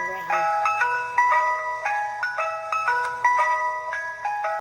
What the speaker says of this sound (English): that's the ice cream music sound right here